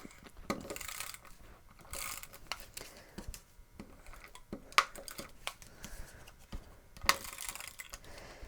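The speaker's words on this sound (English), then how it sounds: "So I'm going to go ahead and use some tape runner." An adhesive tape runner being rolled across paper for a pop-up card, with several short ratcheting zips and clicks spread out among quieter handling sounds, close and fairly soft.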